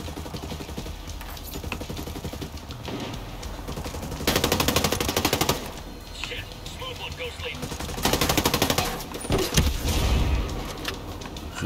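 Rapid gunfire from the tactical shooter Ghost Recon Breakpoint during a snowy mission, bursts of automatic shots crackling in several loud clusters over steady game ambience, with a voice talking briefly between volleys.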